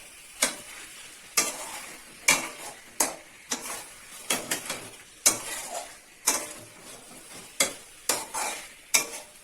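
A spoon scrapes and stirs chicken pieces for Bengali chicken kosha in a pan, with about a dozen distinct, fairly loud strokes at an uneven rhythm over a light background sizzle.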